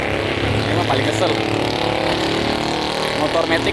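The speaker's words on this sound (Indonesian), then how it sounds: "Motor Matic 110 cc dipasang knalpot racing kayak anjing. Suaranya anjay." A 110 cc automatic motorbike fitted with a racing exhaust drones loudly and steadily nearby, its engine note rising and falling slightly while someone talks over it.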